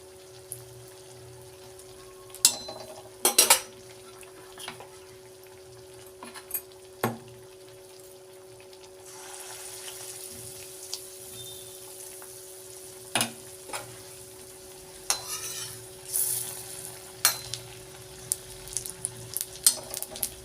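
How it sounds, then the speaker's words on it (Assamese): Wheat flour pitha (atta malpua) sizzle steadily in hot oil, a continuous bubbling hiss broken by sharp pops and occasional spatters, heard up close with no talking. "এতিয়া এইদৰে মই বাকীকেইটা পিঠাও এইদৰে মই ভাজি ল'ম।"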